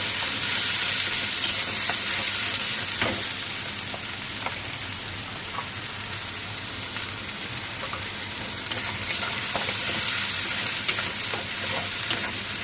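Fish sizzles steadily in hot oil in a pan, fried before going into a curry with potato and pointed gourd. A loud, even crackle runs throughout, with scattered pops and light spatula scrapes.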